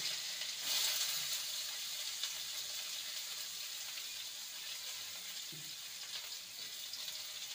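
Continuous hissing sizzle of chopped onion frying in hot oil with dried red chilli, steady and close, with a faint clink partway through.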